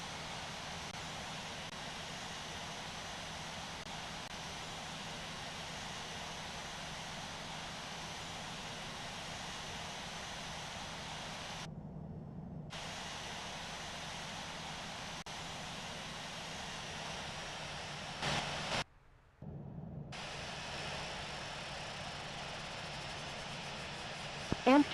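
Airliner engines in the Infinite Flight simulator at Amsterdam Schiphol runway 36 left, a steady, fairly faint broadband roar holding throughout, briefly cutting out twice.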